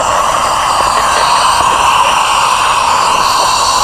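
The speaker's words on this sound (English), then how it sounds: "Alright, so here it is, the jet fan." A jet fan blasts grit out of the wheels of a 6s RC car, a loud, steady whooshing roar that holds unbroken throughout, with no talking.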